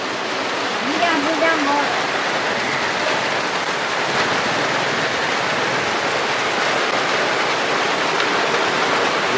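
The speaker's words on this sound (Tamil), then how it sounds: "மழை பொட்டு பாருங்க" Heavy rain pours down steadily during a flood in Jaffna, a dense, unbroken hiss of water loud and close from start to finish, with faint voices occasionally underneath.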